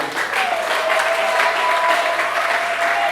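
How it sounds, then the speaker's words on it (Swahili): An audience claps in sustained, dense applause welcoming a university doctor at a gathering, steady and fairly loud throughout, with a faint tone running underneath and no talking. "Anaweza kusimama kwa makofi na vigelegele tukishangilia."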